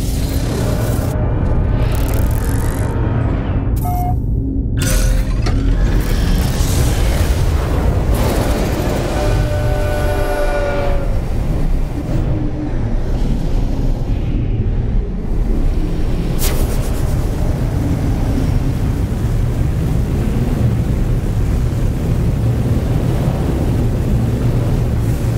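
The Starborn Runner spaceship takes off in No Man's Sky with a loud, steady engine roar and deep rumble. Whooshes and mechanical whines rise over it, and the roar holds steady the whole time without pausing.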